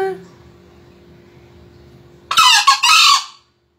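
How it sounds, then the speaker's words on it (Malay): A green junglefowl crows in a crowing contest, one loud, close call with a long stretched final note, following a stretch of faint background hum. "Partisipasi lomba kokok grup ayam hutan Nusantara"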